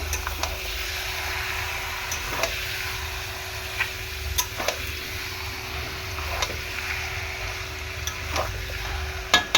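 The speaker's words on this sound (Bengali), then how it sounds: "এবার আমি ভালো করে কষিয়ে নেব" Mutton and potatoes sautéed in a pan, giving a steady low sizzle with occasional scraping clicks of a spoon against the pan, moderately close and without talk.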